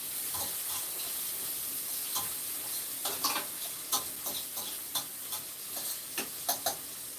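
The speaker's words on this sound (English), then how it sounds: "So I'm just sauteing my seasoning for the mackerel." Seasoning for mackerel sautéing in a pan, a soft continuous sizzle with a string of light spoon taps and scrapes growing more frequent toward the end, close and with no voices.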